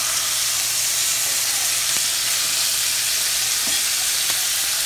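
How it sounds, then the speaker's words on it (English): Steady, close sizzle of bacon frying in a pan, a dense crackling hiss with occasional sharper pops, continuous throughout with no talking. "Bacon sizzling."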